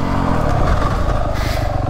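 A 2023 Beta 300 Race Edition or 2023 Yamaha YZ450F Monster Edition dirt bike on a track, its engine running steadily near and loud, with a rough buzzing drone and slight rises in pitch as the throttle opens.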